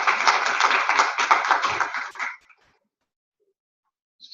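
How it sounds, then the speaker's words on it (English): Audience applause welcoming a campus chancellor as guest speaker at a senate meeting, dense clapping from a modest crowd that runs for about two seconds and then stops abruptly into silence. "let's give him a round of applause and welcome"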